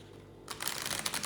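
A brief, crisp riffle of tarot cards being shuffled starts after a moment of quiet, close and fairly loud.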